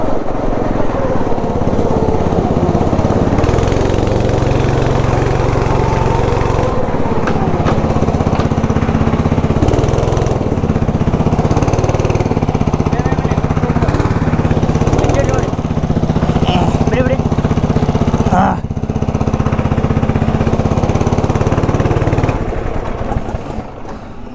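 Go-kart engine running at a karting track in Bengaluru, a loud steady buzzing drone that holds throughout, with voices talking over it.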